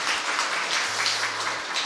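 A studio audience gives a short round of applause for a guest who volunteered for military service, a steady wash of clapping with a low hum underneath.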